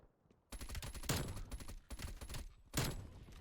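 KSP 45 submachine gun firing in bursts in Call of Duty Cold War, close and loud, with several rapid strings of shots separated by short pauses and no talking.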